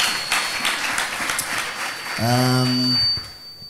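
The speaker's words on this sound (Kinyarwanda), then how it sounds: "Mumfashe tumukomera amashyi menshi." An audience at a church gathering breaks into scattered applause that is briefly overlapped by a sustained voiced tone, and the sound then trails off quickly.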